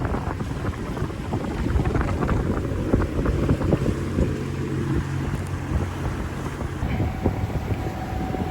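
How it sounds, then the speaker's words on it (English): Sailboat underway in windy Aegean weather, a steady broadband rush of wind and water with a low mechanical drone underneath, constant and fairly loud throughout. "we're on the move again in windy weather"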